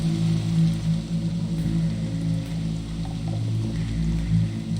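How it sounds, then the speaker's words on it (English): Steady rain ambience played from a fantasy tabletop soundboard, a soft continuous patter with a low rumbling hum under it, even and unbroken throughout. "Turn on a little bit of rain."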